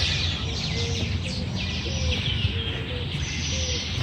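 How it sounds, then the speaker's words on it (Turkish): Green parrots call in a city park in Peru, giving short repeated cries at a steady pace over a constant background hum. "Ee, yeşil papağanlar var. Cennet kuşu, cennet papağanları diyoruz ya."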